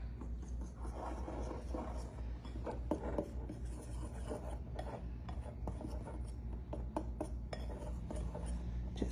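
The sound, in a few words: whisking cinnamon and nutmeg into dry ingredients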